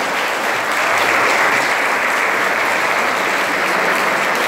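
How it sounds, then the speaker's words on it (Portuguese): Sustained, even applause fills the nave as a congregation at a Catholic Mass in a Guararema, São Paulo parish claps together, loud and unbroken for several seconds. "Faz uma salva de palmas para eles."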